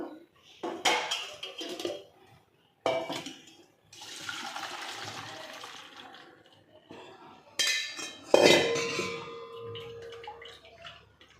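Soaked soya chunks are moved into another bowl with water, giving several close bursts of splashing and sloshing, each broken by brief pauses, with a sharp clink from the dish near the end.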